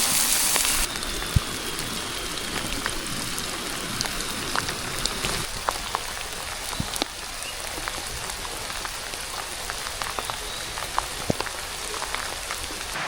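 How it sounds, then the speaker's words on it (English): Steady rain falling on a surface nearby at a campsite in Kwiambal National Park, New South Wales, a constant patter with scattered louder drops ticking throughout. "Yeah, seasoned by the rain."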